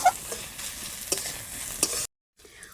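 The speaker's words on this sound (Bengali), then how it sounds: "আবারও ভালো করে লাল লাল করে ভেজে নেব।" Spices and crushed ginger fry in a pan while being stirred, a soft sizzle broken by scraping stir strokes, close and fairly quiet, cutting to near silence briefly near the end.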